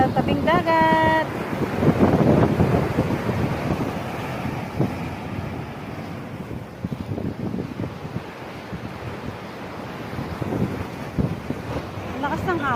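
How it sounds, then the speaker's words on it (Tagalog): Strong seaside wind buffets the microphone over the roar of surf, loud and continuous, while a person talks over it and a brief tonal whistle sounds near the start. "Malakas ng hangin."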